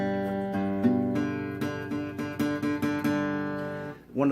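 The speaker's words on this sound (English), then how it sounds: "or there'll be a slight buzz." An acoustic guitar chord is strummed repeatedly in a steady pulse, ringing close and clear, with a short fading scrape at the end.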